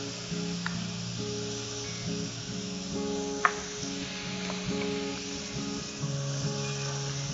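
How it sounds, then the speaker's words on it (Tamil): Garam masala and coriander powder frying in a pan, a soft continuous sizzle with occasional scraping from stirring, over a steady tonal hum in the background. "இப்போ இதுல அந்த பச்சை வாசனை போற வரைக்கும் நல்லா ஃப்ரை பண்ணிக்கோங்க"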